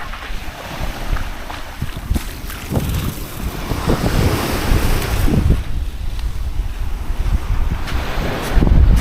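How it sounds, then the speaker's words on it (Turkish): Waves wash and break near the shore under gusty wind buffeting the microphone, a steady loud roar with surges building toward the end. "Ve dalgalar bizim çadıra doğru yaklaşmakta."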